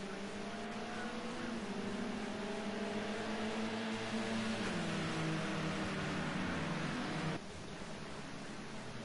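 Modern touring race cars at Ruapuna Park scream past at around 136 mph, a steady loud engine drone with shifting pitch that drops sharply near the end as the pack recedes.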